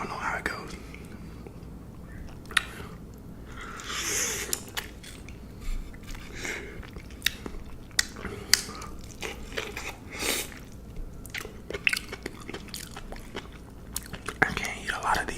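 Close, soft chewing of enoki mushrooms and dumplings, with wet squishy bites and crunchy clicks in an irregular rhythm, interspersed with quiet whispering.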